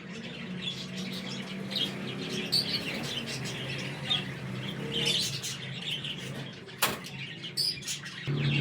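Flying pigeons kept by a breeder in a Punjabi pigeon loft, giving faint scattered chirps and soft calls with occasional brief wing flutters over a low, steady outdoor background.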